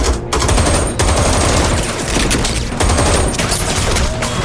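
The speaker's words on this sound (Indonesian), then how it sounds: "Baku tembak pun tak terelakkan." Rapid automatic gunfire fills a film shootout, dense overlapping bursts of shots rattling continuously at close range and loud throughout, with brief dips between volleys.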